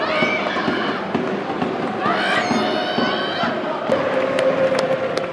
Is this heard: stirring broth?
no